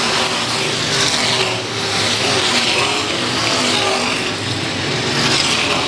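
IMCA modified race cars roaring around the oval at Ionia Raceway Park, a steady loud engine drone from several cars heading into a turn, with no speech.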